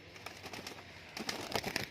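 Pigeons in a loft give low, soft coos, faint at first and then a little closer and busier toward the end, with no voices.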